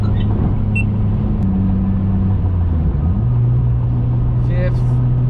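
An 8th-generation Honda Civic Si with a turbocharged K20 engine cruising at steady speed around 3,000 RPM, its engine and exhaust holding a low, even drone with a slight pitch shift midway; no one speaks.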